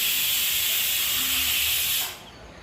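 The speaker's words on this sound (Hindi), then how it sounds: "कुकर में सीटी आ रही है।" Steam hisses from a pressure cooker whistle in a home kitchen, a loud, steady broadband rush that runs for about two seconds and then cuts off, leaving only faint room noise.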